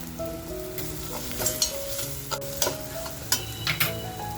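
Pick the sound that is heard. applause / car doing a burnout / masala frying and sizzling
masala frying and sizzling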